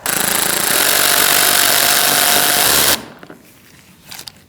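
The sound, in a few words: tightening Chevrolet Cruze grille fastener with a power tool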